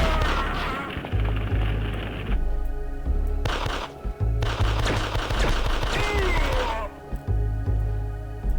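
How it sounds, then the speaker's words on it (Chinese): Arcade gunfire from Elevator Action 2: bursts of rapid shots, crashes and impacts in clustered stretches with short gaps, over game music and effects. "我向斜上的方向进行射击了，这也是本作新加入的一个射击动作"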